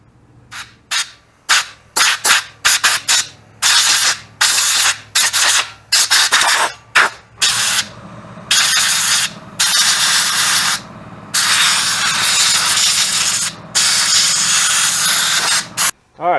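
Bursts of compressed air hiss loudly over rear brake parts from a 2010 Camaro SS, first as short rapid blasts, then as longer continuous blowing, close and loud with no talking.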